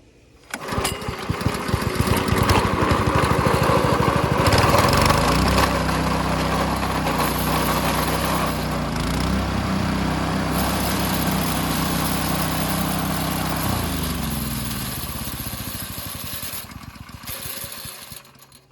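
Small engine on a manual trencher is pulled to start, then runs with a steady loud drone that shifts pitch as the throttle changes, settling into a continuous rumble before cutting off near the end.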